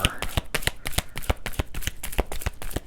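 A tarot deck is shuffled by hand in a fast, steady run of loud, close riffling bursts that keeps going without a break, with no talking.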